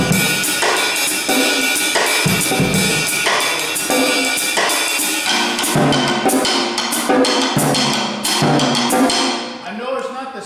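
A drum kit plays a busy, driving jazz Latin pattern, with dense cymbal wash over steady kick and snare accents, loud and continuous throughout before easing at the end.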